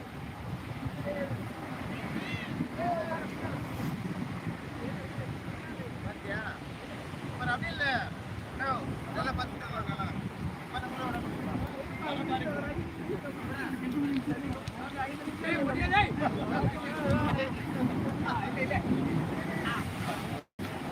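Continuous roar of rough sea waves and wind washing in and out on Om Beach, Gokarna, with a rough, broadband rush throughout.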